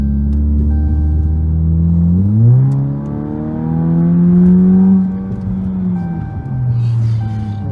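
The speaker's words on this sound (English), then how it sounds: "I'm just putting my toe down on the gas pedal." A 2015 Chrysler 200 with a 2.4L engine and throttle controller, revving in gentle rises and falls from idle as the gas pedal is lightly pressed, close and clear with no talking.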